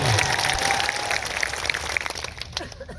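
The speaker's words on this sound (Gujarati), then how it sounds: "રતનસિંહ ભાઈ માટે આપણે જોરદાર તાળીઓ પાડી લઈએ" Crowd at an Aam Aadmi Party political rally clapping for a village sarpanch who is joining, a dense wash of applause that thins toward the end.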